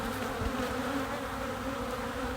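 Honey bees swarm inside a crowded hive, a dense steady hum that stays close and even throughout with no voices.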